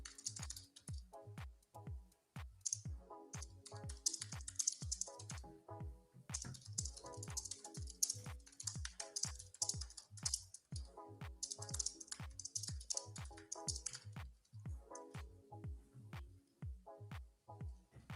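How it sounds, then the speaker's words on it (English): Quiet computer keyboard being typed on, a long run of soft clicking keystrokes in uneven bursts and flurries, fairly close and low in level, with no talking. "It's like the first time I think I've ever heard KC's keyboard"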